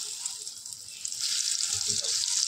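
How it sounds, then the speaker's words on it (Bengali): Pointed gourds sizzle in hot oil, a bright steady hiss that swells louder as it goes, with faint kitchen clinks beneath. "এখন আমি পটলগুলো ভেজে নেবো"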